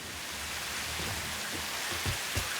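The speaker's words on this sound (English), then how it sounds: "How did you get rain?" Steady rain falls in the factory-building video game Satisfactory, a constant even hiss with a few soft low thumps near the end, and no voices.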